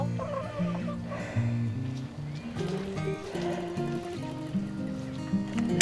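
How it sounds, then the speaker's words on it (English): Farm chickens cluck continuously in a close, busy chorus of overlapping calls, with a few higher squawks mixed in. "Checking out the chickens."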